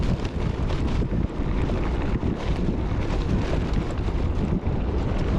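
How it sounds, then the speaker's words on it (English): Heavy, steady wind roar across the microphone of a gravel bike rider heading into a headwind on the Ridgeway, a constant loud rumbling buffet filling the whole clip with no speech. "You can probably hear I'm riding into the wind"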